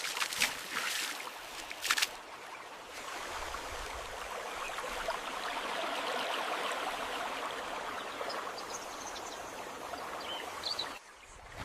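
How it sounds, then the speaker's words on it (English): Rushing water of a forest river, a steady broadband wash that holds at even strength throughout, with a few sharper splashes near the start. "The sound of rushing water guides their path"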